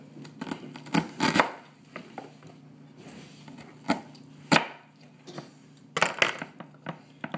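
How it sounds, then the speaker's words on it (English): A knife cross-cutting and dicing onions on a board, with scattered sharp chops and knocks, some in quick clusters, over a low background hum. "I cross cut them this way to give it this beautiful looking onions slices that are diced just so"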